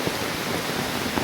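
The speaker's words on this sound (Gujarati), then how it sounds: "એટલો વરસાદ છે।" Heavy rain pours down on a flooded Gujarati village, a dense, even roar of falling water that stays loud and unbroken.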